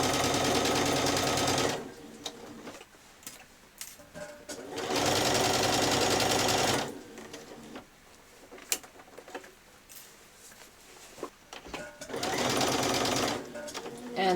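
Close, steady whirring of a sewing machine stitching a seam on a child's dress comes in three separate runs with quieter pauses between them, while someone talks throughout.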